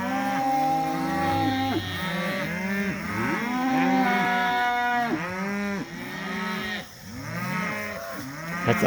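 Cattle mooing continuously during a cattle drive on a pasture farm, several loud overlapping bellows from nearby animals following one another in steady succession with no talking.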